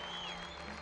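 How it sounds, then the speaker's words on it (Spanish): Hundreds of people applauding after a Passion play performance in Adeje, a dense, even wash of clapping throughout the short moment. "los cientos de personas que rompen un aplauso"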